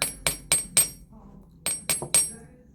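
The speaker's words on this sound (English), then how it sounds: "I'm using this slightly concave side of the hammer." Hammer striking pure silver jewelry with the slightly concave face, sharp metallic taps in two quick runs of four and three, close and clear.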